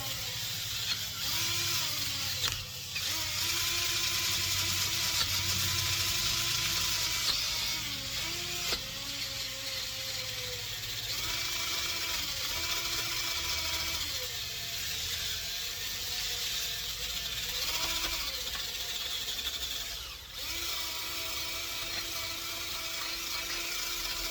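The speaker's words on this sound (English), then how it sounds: "I'm just using a drill and a wire brush, clean all the threads up as well" A drill spinning a wire brush whines steadily for a long stretch, cleaning corrosion from threads on the underside of a Jaguar XKR, briefly stopping and starting a few times, with a scratchy grinding edge.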